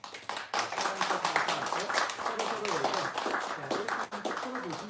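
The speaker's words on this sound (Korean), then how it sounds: "서로에게 격려의 박수를 한번 올려드리도록 하겠습니다" A church congregation claps together in appreciation, steady dense clapping that fills the room and continues evenly throughout, with some voices mixed in underneath.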